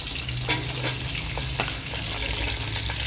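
Onions frying in a pan for chicken fried rice biryani give a loud, steady sizzle with occasional stirring scrapes and clicks, alone with no voices.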